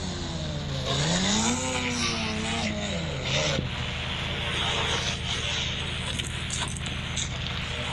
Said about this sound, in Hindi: अपनी बाइक को स्टार्ट देता हूँ